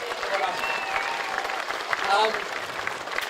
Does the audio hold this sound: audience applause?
yes